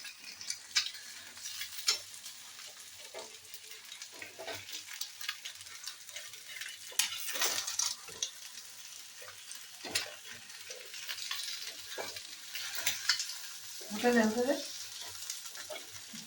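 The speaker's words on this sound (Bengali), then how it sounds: "এখন পোচ বানাচ্ছে, একটা পোচ আর কি অলরেডি বানিয়ে ফেলেছে" An egg poaching in a frying pan, with a soft continuous sizzle and occasional stirring clicks and scrapes heard close up, while faint voices and household sounds drift in the background.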